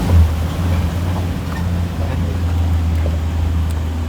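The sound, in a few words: amphibious vehicle crossing a river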